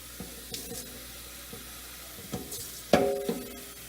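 Sweet basil marinara sauce ingredients being stirred in a pot, with a few scattered soft scrapes and a sharper clink near the end against a quiet background.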